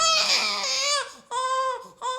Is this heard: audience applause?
no